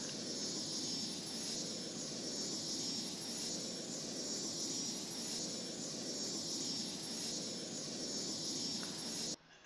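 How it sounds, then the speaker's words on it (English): A jet airplane flying in the city-building game Cities: Skylines, a steady loud engine roar held at an even level throughout, then cut off abruptly at the very end, with no talking. "Yep, that's a plane."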